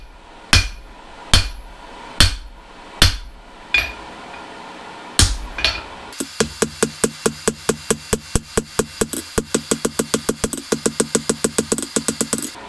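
Blacksmith hammering hot steel on an anvil while forging bolt jaw tongs: about seven slow, ringing, separate blows, then a fast, steady run of many sharp, bright strikes, loud and close.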